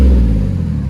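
A Chevy Silverado with a 4.3 V6 and a Kooks straight-through exhaust gives a brief, loud, deep revving burst that tapers off within a second.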